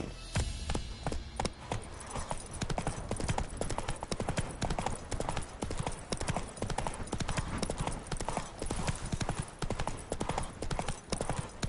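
A horse gallops in The Witcher 3, a rapid, steady clip-clop of hooves close by that drives on without pause, with faint talking mixed in.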